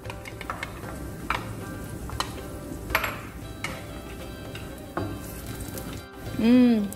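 Nuts such as almonds and cashews sizzle while frying in hot ghee, with occasional clinks of a utensil against the pan and a brief higher tone near the end.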